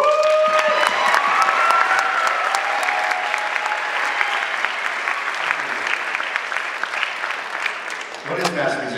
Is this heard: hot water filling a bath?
no